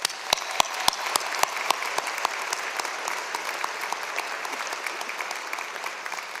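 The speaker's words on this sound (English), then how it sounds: "Let's give them one more round of applause." A graduation audience at a law school commencement applauding families and partners, brisk dense clapping with a few sharp nearby claps at the start, steady and unbroken throughout.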